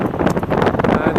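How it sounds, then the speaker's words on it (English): Wind buffets the microphone on a blustery day while riding an ICE Vortex recumbent trike with a Windwrap fairing, a steady broadband roar with gusty swells throughout and no speech. "It's a very windy day today."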